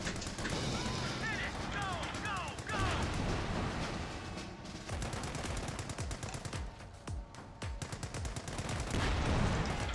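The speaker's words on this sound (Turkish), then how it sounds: "Ama 50 kalibre de çok iyi vuruyor" A .50-caliber machine gun fires explosive rounds in Company of Heroes 2: repeated rapid bursts of heavy gunfire and booming impacts run throughout the battle, with other game sounds and brief voices mixed in.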